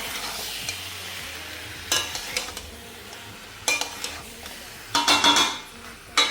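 Mutton being stir-fried in a pan, a steady low sizzle under several bursts of scraping and stirring from a spatula against the pan, close by.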